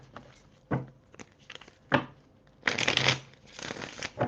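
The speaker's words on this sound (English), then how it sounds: "Let me shuffle these cards and then I'll be ready for you." Tarot cards shuffled by hand in a series of short riffling bursts, with a longer, louder shuffle near the end, close and clear with no talking.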